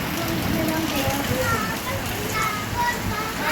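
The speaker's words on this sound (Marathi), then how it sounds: "व्हिडिओ काढताना पाऊस पडला" Steady rain patters and hisses all the way through, a dense even wash of drops on hard surfaces.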